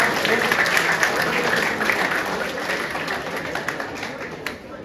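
An audience at a presentation gives a boy a big round of applause, a loud, dense wash of clapping that holds steady and slowly eases, with faint voices mixed in.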